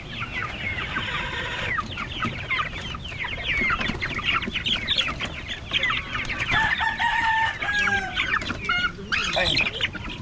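Chickens cluck steadily throughout, with roosters crowing in drawn-out calls, close and loud over a busy farmyard background.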